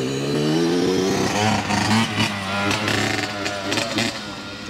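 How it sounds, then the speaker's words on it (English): Dirt bikes ride nearby on a coastal stretch near an old barracks point, their engines loud and revving, pitch rising then dropping as they pass, with rough rasping bursts throughout. "You hear lots of that down this way, dirt bikes."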